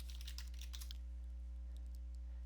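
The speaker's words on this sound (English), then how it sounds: "you want to type in iTunes" Quick bursts of typing on a computer keyboard, a run of close, crisp key clicks in the first second, then a few scattered taps over a steady low hum.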